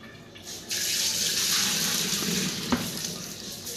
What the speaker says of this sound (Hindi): ये मैंने सर्फ को अलग से घोल के डाल दिया